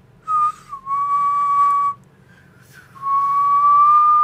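A person whistles sustained, steady tones while breathing out, two long clear notes separated by a short pause, close and alone without speech.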